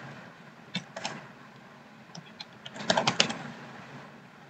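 Someone typing HTML code on a computer keyboard, scattered quiet key clicks in small clusters and a brief denser burst near the end, close over a low room hum, no talking.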